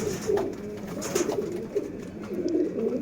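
A male Sialkoti chuhay pigeon coos repeatedly in soft, low, rolling calls, close by, against faint background noise.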